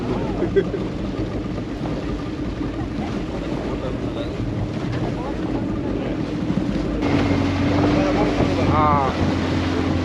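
A boat motors across the sea off Pigeon Island, Trincomalee, during a chase, with a steady engine drone under strong wind buffeting and wave wash, and voices talking near the end.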